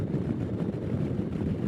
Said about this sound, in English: A little wind pushing me towards the semis.